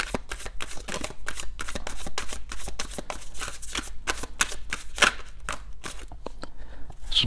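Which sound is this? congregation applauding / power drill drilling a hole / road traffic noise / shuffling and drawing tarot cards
shuffling and drawing tarot cards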